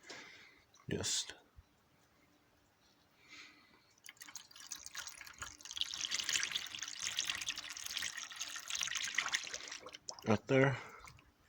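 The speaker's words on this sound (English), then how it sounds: "what you want to do is just pour it into your radiator until it gets full" Coolant mixed with water is poured into the radiator of a 1997–2001 Toyota Camry 2.2, giving a soft trickling and dripping stream that swells in the middle with a few clicks, and someone speaks briefly.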